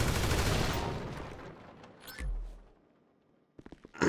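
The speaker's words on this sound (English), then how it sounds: "It sounds like there's a bomb going off in the other room." Bomb-like blasts go off in another room in a video game: a long rumbling burst that decays, a deep boom, then a quick cluster of sharp bangs near the end.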